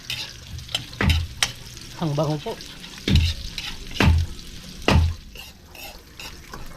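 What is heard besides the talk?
sautéing and stirring ingredients in a pan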